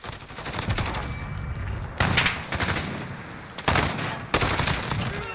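SIG SG 553 rifle firing in Call of Duty Modern Warfare: loud, close automatic bursts, one long stream of rapid shots, then shorter bursts broken by brief pauses, with no voices.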